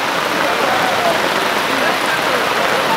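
Heavy, steady rain pours down at a floating guava market on the water, a dense, even hiss filling the scene at close range with no pause.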